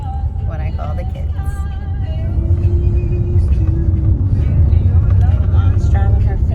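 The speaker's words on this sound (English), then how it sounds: "Mom's driving her fancy new car" Car driving along a road on a road trip toward Georgia, with steady low engine and road rumble filling the interior and some voices speaking over it, growing slightly louder midway.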